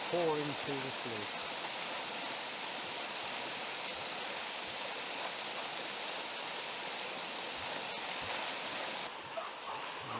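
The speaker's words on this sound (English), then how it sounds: "Another angle here of the water pouring through the sluice." Water rushing through the sluice at Maunsel Lock on the Bridgwater and Taunton Canal, a steady broad roar filling the whole clip, with a brief voice at the start.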